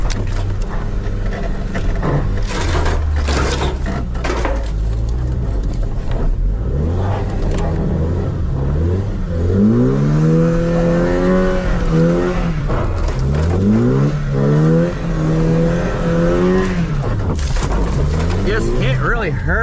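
A wrecked truck drives along trails, its engine rumbling and revving steadily throughout with rising and falling pitch sweeps, close and loud, with some background noise.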